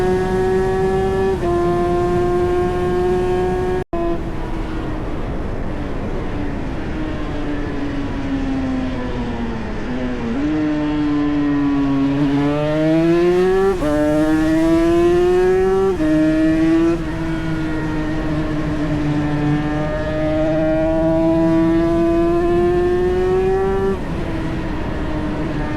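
A Yamaha TZ 350 two-stroke racing motorcycle at full throttle during a Snetterton race, a loud nasal engine note rising through gears with sharp upshifts and dips into corners, sustained and close for the whole stretch.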